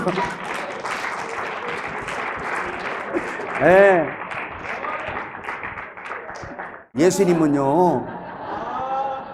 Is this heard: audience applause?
yes